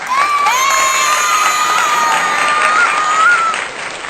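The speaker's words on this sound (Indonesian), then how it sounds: "Tepuk tangan dulu dong." A class of ninth-grade students bursts into loud applause and cheering, with a sustained high whistle or shrill voice riding over the clapping crowd before it tapers off at the end.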